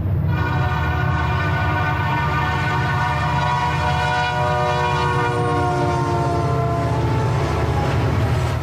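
A Team Fortress 2 train horn resembling a Nathan P3, as used on the Southern Pacific Railroad, blasts loud and sustained with a rich multi-chime tone over the rumble of a passing train for the whole stretch.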